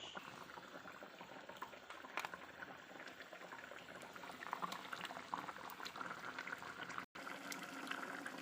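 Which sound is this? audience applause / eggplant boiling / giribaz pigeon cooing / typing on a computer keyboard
eggplant boiling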